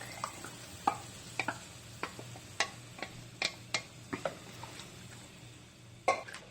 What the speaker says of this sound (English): We just kind of want to whisk this together so that the flour absorbs even more with the broth